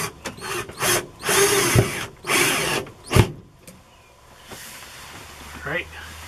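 A power drill with a magnetic chuck drives a screw in several short whirring bursts with pauses between, ending in a sharp clack, followed by quieter handling and a brief voice.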